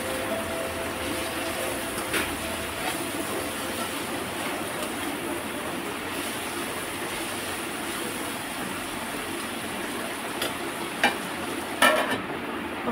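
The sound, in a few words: stirring boda kakarkaya curry after adding salt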